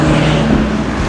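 GT3 race cars blast past at the Nürburgring, a loud sustained engine roar with steady tonal drone close by, no talk over it.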